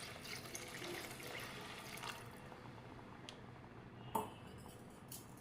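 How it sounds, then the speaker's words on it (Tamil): Water poured into a simmering Tamil-style fish curry with tamarind water, a steady liquid rush and splash filling the pan, fairly quiet, with a small clink near the end. "இதோட நம்ம ரெசிபிக்கு தேவையான தண்ணியும் ஆட் பண்ணிக்கலாம்."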